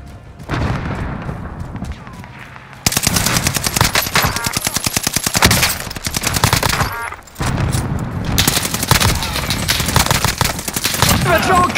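Rapid automatic gunfire rattles in Call of Duty: Modern Warfare, long fast bursts with short pauses and booming low impacts, loud and close, with voices talking intermittently.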